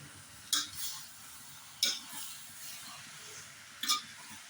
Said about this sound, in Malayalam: മിക്സ് ചെയ്യണം ഇളക്കി മസാലയൊക്കെ എല്ലാ കഷ്ണത്തിലേക്കും